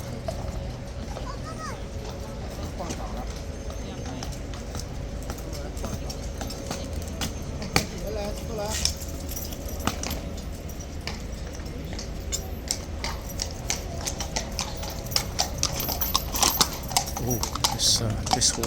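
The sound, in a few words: horse hooves clip-clopping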